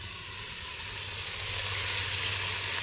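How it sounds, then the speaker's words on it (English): Rabbit stew with added ingredients sizzling and frying in a pot, a steady broadband hiss that grows slightly louder, with a low hum underneath and no talking. "I don't know if you can hear that, but it's sizzling."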